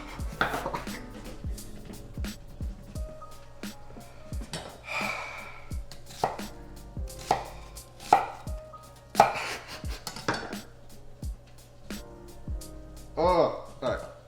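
Kitchen knife dicing an onion on a cutting board, irregular sharp taps in quick runs and scattered single chops, close and moderately loud, mixed with a person's breathy sighs and faint voice.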